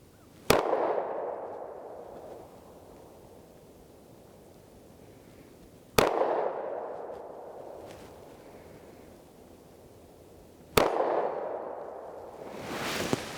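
Three single shots from a Sar USA B6 pistol, a CZ 75 clone, each a sharp loud crack followed by a decaying echo, spaced several seconds apart with quiet between them and no talking.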